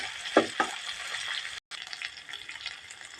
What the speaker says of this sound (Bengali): এখানে আমি পেস্টটা ভালো করে লাল করে ভেজে নেব